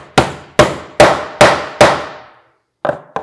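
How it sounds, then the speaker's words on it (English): A hammer drives a nail into a wooden planter box with five sharp, evenly spaced strikes, a pause, then two quicker lighter taps, close and loud with no voices. "I will hammer in my second nail"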